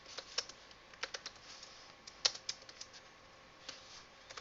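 Rapid keystrokes on a computer keyboard typing an HTML tag, a quiet, uneven run of close clicks with brief pauses between bursts and no talking.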